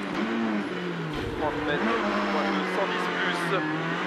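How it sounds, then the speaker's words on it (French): A BF Goodrich Drivers Team rally car on the Col de Turini stage of the 2009 IRC Monte Carlo Rally roars past, its engine note rising and falling through gear changes, with a voice talking over it. "C'est sa voiture hein, qui roule"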